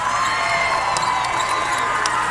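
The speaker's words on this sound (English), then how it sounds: "As they get a loud applause from the Allens fan base" Basketball fans of the Allens cheer and applaud steadily during a boys' county tournament championship game, a dense, continuous crowd roar with scattered shouts and whoops, loud and unbroken throughout.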